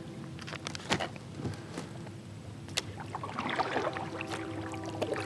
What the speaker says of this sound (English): So I'm going to keep paddling my way upstream